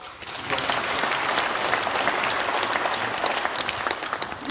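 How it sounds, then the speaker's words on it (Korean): Church congregation at a united prayer meeting held at Wangsimni Church claps loudly, a thick, continuous roar of applause rising quickly and staying full throughout. "또 나오니까 박수 한번 해주세요."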